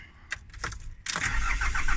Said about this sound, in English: Okay, gonna start the engine.